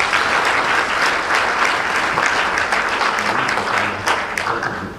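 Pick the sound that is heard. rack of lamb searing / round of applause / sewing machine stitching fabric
round of applause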